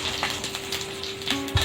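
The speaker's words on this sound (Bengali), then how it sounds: "দুটো দারচিনি আর দুটো এলাচ আর 3টে লবঙ্গ আর কিছু গোটা জিরে। আমি একটু ভেজে নেব।" Whole spices, cinnamon, cardamom, cloves and cumin seeds, frying in a pan over medium heat, giving a soft steady sizzle with a few light stirring clicks, close and alone.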